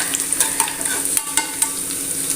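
Dried red chillies and curry leaves frying in hot oil for a sambhar rice tempering, a continuous crackling sizzle dotted with small regular pops and light spoon taps, close and fairly loud.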